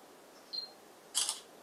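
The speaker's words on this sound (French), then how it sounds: "je vais prendre une photo" Camera shutter firing once, a faint electronic beep followed by a short crisp mechanical click, close and alone against a quiet room hiss.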